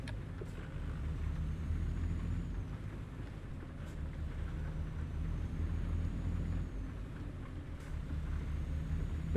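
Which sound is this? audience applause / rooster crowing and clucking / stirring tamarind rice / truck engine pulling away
truck engine pulling away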